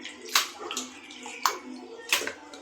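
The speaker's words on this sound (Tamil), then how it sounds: "கழுவி எடுத்துக்கலாம்." Country chicken pieces are rinsed in a large pot of water, giving a few close splashy swishes and sloshes at intervals over a quiet background.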